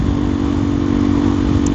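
A KTM Duke 390 Gen 3 motorcycle exhaust drones steadily at a constant loud level, close up, with a slightly rough mechanical clatter and no talking.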